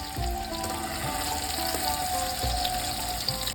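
Paneer pieces fried reddish in oil sizzle softly while they are lifted out, with a few light clinks and scrapes over a steady hiss and background music.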